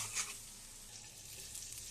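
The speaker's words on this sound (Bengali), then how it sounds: "এই যে পোলাওর জন্য এখন পেঁয়াজ মরিচ বেরেস্তা করে নিতেছি" Onions and chillies fry in a pan of oil for pulao, giving a steady, soft sizzle with light stirring scrapes, fairly quiet and continuous throughout with no talking.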